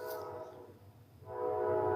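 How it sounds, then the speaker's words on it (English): A passing train sounds its horn in two long, loud, steady blasts with a brief lull between them, and no voices are heard. "As you can hear now, it's a train."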